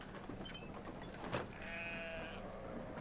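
A sheep in the video game Brothers: A Tale of Two Sons gives a drawn-out bleat lasting under a second, heard against steady game ambience, with a brief creaking sound just before it.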